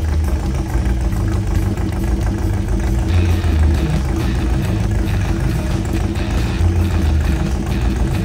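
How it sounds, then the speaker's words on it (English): A custom painted Baja car engine idles while warming up, a loud, steady low rumble with an even mechanical beat running throughout. "Next up was to let the engine warm up and then I could check the timing."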